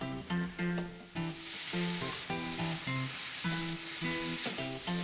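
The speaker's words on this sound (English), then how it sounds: "Our paneer tikka is sizzling and smoking hot." Paneer tikka sizzling in a pan over a high flame sends up a steady, loud hiss of frying beneath clearly audible background music.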